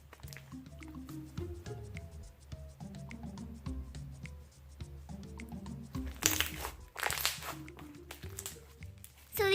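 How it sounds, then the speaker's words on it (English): Clicky slime being spread and worked by hand, giving steady wet squishing and crackling clicks at close range throughout, with a sharper burst of crisp crackles near the end and no talking. "you can also kind of spread it and it's also really clicky"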